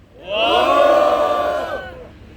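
A crowd at a civic group's press conference for constitutional reform lets out a loud unified cheer, rising sharply, holding for over a second, then fading out.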